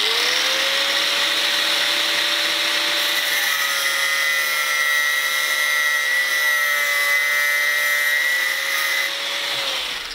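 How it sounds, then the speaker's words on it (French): A power tool cuts a small piece of mosaic rivet for a chef's knife, giving a loud, steady whining hum with a constant pitch that runs unbroken for about ten seconds, close by and with no voices. "Je vais découper le petit bout de rivet mosaïque."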